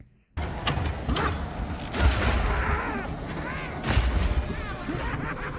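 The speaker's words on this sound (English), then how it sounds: "Throw grenades at it and then blow them up." Gunfire and grenade explosions in the video game Path of Exile 2, dense bursts of shots and booming blasts, loud and continuous, with a person talking over the action.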